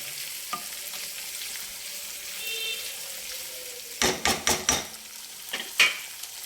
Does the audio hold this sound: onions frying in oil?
yes